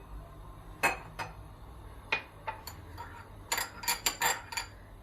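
A spoon clinks against a pot while tomato sauce and oil are stirred together, giving scattered light metallic taps that come closer together toward the end over a quiet background.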